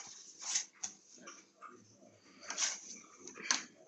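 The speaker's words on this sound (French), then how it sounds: "C'est mon chien qui boit, ça fait du slurp." A dog lapping and slurping water from its bowl in a quiet room, a series of irregular wet licks and splashy slurps at close range, faint overall with no talking.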